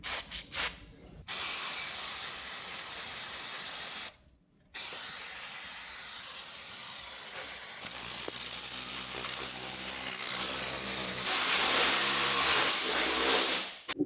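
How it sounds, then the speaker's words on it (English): Brake cleaner sprayed from an aerosol can onto the underbody of a Mazda RX-7 FD during a garage build: long, loud steady hissing bursts with short pauses between them, close to the mic, and no talking. "So we need a bit of brake cleaner."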